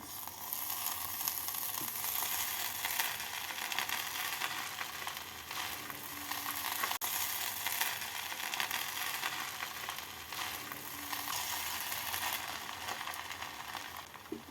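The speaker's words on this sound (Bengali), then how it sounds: "ঘি আর জায়ফলের গুঁড়োটা দিয়ে আমি নাড়াচাড়া করে দু মিনিট ঢাকা দিয়ে রেখে দেব" A pot of Oria khichdi is stirred after ghee and nutmeg powder go in. It gives a soft, steady sizzle with faint scraping and stirring that runs continuously and quietly, with no talking.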